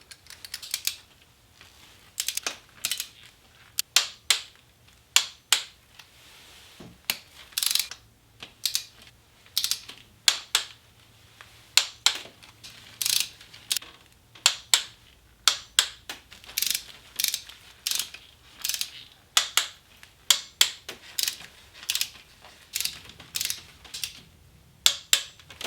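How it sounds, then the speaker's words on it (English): Torque wrench tightening the bolts on a B7 Audi RS4 engine in a star pattern during a carbon clean; a long series of sharp ratcheting clicks in repeated short bursts, close and otherwise quiet. "once we come in with our torque wrench, we're going to go 1, 2, so the two middle ones"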